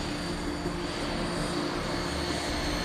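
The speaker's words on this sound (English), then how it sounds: "Pressure is rising. And the noise of the engines rising." Jet engines of a Cold War military jet trainee aircraft spool up in a steady, loud, continuous roar with a sustained whine, heard close and alone for the whole stretch.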